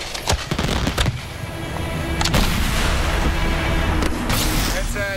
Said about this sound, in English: Each mortar shoots a single fireworks shell up into the sky.